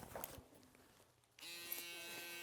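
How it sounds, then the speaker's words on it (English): An electric foil shaver buzzes steadily up close on a neck, quieter at first, then stronger and more constant, with a sustained humming drone and no talking. "foil shaver the neck"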